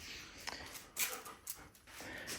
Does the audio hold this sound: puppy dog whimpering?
yes